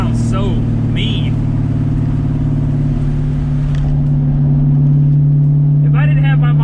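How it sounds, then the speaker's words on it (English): Loud, steady rumble from a 1997 Ford Mustang Cobra engine at a raised idle, swelling slightly as it is revved partway through. Short bursts of speech break in near the start and again near the end. "my favorite part about this car is the D-cell. It's a very, very unique sound with the IMRCs and all that."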